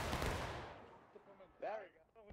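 A volley of Civil War-era muskets fires in War of Rights during a large multiplayer historical event, a loud burst of overlapping shots that decays over about a second, followed by a voice shouting.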